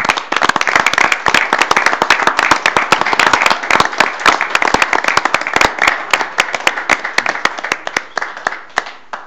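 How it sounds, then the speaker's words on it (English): Sharp, close hand claps ring out in a round of applause at a city council meeting, crisp and loud at first, then thinning toward the end as individual claps become more spaced and distinct. "I think one more round of applause would be very appropriate."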